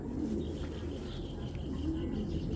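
Racing pigeons of foreign bloodline breeding stock coo softly and continuously in a loft, a low murmuring chorus with faint chirps above it.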